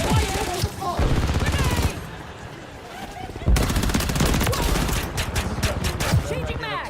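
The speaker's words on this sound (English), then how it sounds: "I'm taking fire." Rapid automatic gunfire in Call of Duty Modern Warfare III, loud close bursts of shots and fusillades repeating across the clip with brief pauses, mixed with game effects.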